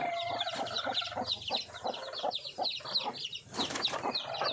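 Hens clucking and chattering close by in a busy flock being fed azolla in Thailand, with short repeated calls and occasional sharper squawks over a low background hum.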